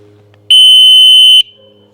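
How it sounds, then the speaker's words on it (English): A single loud electronic horn beep from an electric tricycle, a steady piercing tone lasting about a second, over a quiet background hum. "In the dead center of the button you have a horn,"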